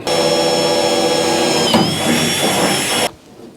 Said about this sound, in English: So let me get this clamped down and we'll get all that cut out. Or drilled out